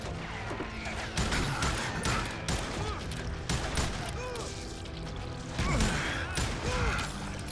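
Gunshots from the Western video game Call of Juarez: Gunslinger ring out as a rapid string of sharp cracks and thuds, loud and close throughout.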